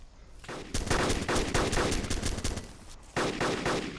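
Rapid bursts of automatic gunfire in the video game DayZ Epoch, loud and close, firing in several sustained volleys with a short pause before a final burst.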